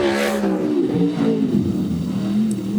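A race car in time trials roars down the back straight, a loud close engine note rising then settling into a steady drone as it passes.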